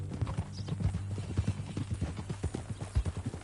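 Horse hooves clip-clop at a steady ride in the video game Red Dead Redemption 2, with a quick rhythmic pattern of soft thuds beneath a low steady hum and quiet voices.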